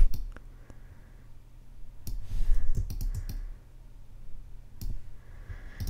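Keyboard keys and mouse clicks come from a computer during logo design work in Adobe Illustrator, with scattered sharp clicks and short bursts of typing at moderate volume over a quiet room background.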